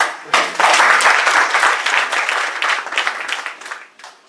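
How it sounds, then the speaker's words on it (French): Loud, close applause breaks out at a general assembly, many hands clapping in a dense, lively patter that swells quickly and then thins gradually toward the end. "On peut l'applaudir"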